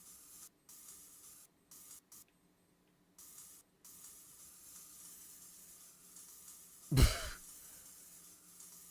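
A can of bug spray in a horror video game gives one short, loud hissing burst against a quiet, faint background hum.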